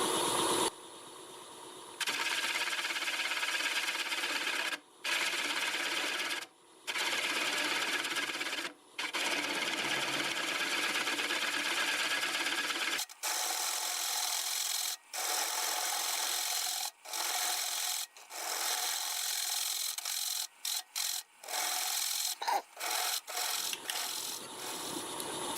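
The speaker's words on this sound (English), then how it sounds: "We're going to do about 500 RPM with a 1/2 inch bowl gouge." A 1/2 inch bowl gouge cuts walnut on a lathe at about 500 RPM, a close, steady scraping hiss broken by repeated short pauses as the tool lifts and returns.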